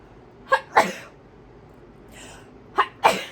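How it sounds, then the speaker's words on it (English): Two pairs of sharp sneezes, each a quick double burst, close up, with a soft breathy sound between them. "Oh, I'm gonna sneeze."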